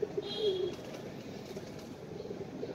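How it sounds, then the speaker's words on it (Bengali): Young pigeons from a newly paired couple in a loft give a close, soft coo at the start over a steady airy background hum, followed by quieter rustling. "2 দশকের কবুতরের বাচ্চা এরা।"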